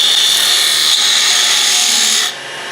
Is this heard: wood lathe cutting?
yes